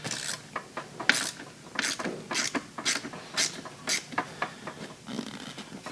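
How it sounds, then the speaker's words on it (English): A hand ratchet loosens a bolt in a car seat track during seat recovering, giving a close, steady run of quick clicking bursts in a regular back-and-forth rhythm, with no talk over it. "all I'm going to have to do is just loosen this 110 millimeter in the seat track"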